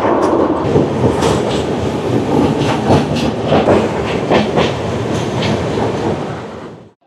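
Shatabdi Express train crossing a river bridge, a loud steady rumble with rhythmic clickety-clack of wheels over rail joints, heard close from on board and fading out at the very end.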